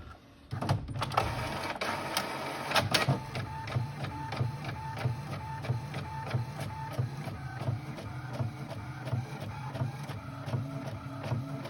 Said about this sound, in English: so we'll hit print